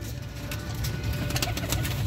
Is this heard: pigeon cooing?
yes